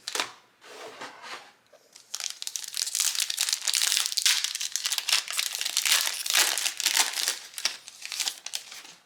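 Foil wrappers on Magic: The Gathering Kaldheim set booster packs crinkle and crackle loudly and close up in continuous bursts as the packs are pulled out, after a few quieter rustles at the start.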